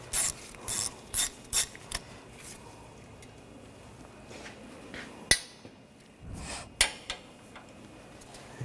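Several quick ratchet clicks as a bolt is worked loose on the rear wheel bearing hub of a 2013-2022 Buick Encore, short bursts close up, followed by a few sharper metallic knocks.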